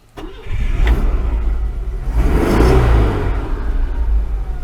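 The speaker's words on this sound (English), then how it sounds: "So if I start the engine manually," A Citroën GSA engine is started by hand, catching after a brief crank and then running with a steady, loud rumble that swells as it revs up before settling back to a fast idle, close by and with no talk.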